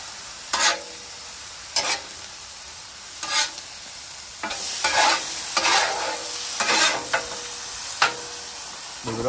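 Chopped beef and cheese fry on a Halo griddle with a continuous sizzle, broken by repeated loud spatula scrapes and chops at irregular intervals close by.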